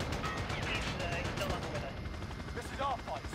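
Gunfire aimed at a helicopter in Call of Duty Modern Warfare: dense rapid automatic shots crackling continuously over a rumbling rotor bed, with a voice talking over the din.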